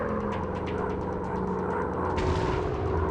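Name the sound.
rockets firing and explosions in an air combat video game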